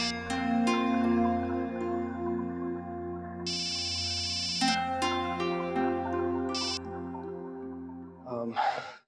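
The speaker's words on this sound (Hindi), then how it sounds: "फोन क्यों नहीं उठा रहे?" A mobile phone ringtone plays a sustained electronic melody for several seconds in an Indian television drama household, fairly loud and steady, ending with a brief soft vocal sound.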